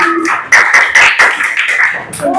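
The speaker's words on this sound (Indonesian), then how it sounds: "Tepuk tangan untuk kelompok strawberry biar semangat." Classroom applause for a student group: a burst of uneven hand claps, close and loud, with young voices calling out over it.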